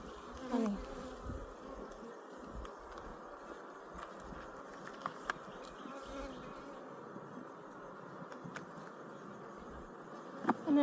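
Honey bees buzz steadily inside an opened Hive 4 during a frame-by-frame inspection, a low continuous drone punctuated by faint handling clicks and taps, with no talking.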